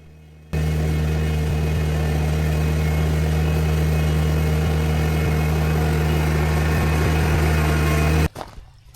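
A small tractor engine runs steadily at a constant idle-like drone while moving gravel, starting abruptly and continuing without change until it cuts off near the end.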